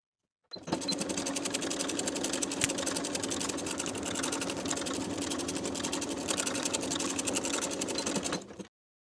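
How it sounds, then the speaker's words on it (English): A sewing machine stitches a lined coat's pocket seam in one continuous run of fast, even mechanical chatter, starting and stopping abruptly, close and fairly loud with no talking. "Then we'll sew that side of the pocket to its seam allowance only from top to bottom along the seam line"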